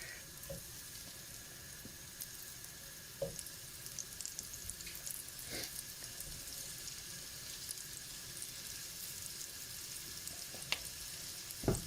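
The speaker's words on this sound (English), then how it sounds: "to deglaze the pan" A pan being deglazed while cooking beef for a beef pie, with steady frying sizzle and hiss, plus occasional clinks and scrapes of a utensil against the pan; no talking.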